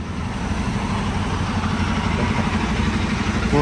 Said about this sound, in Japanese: まあエンジンかかってますけど